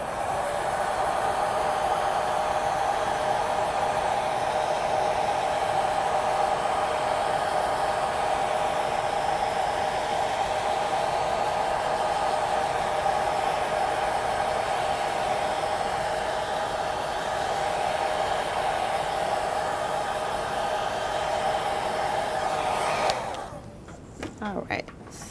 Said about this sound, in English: my blow dryer for just a second, and I am going to dry this